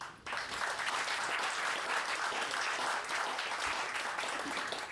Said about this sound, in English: A very warm applause for our sponsors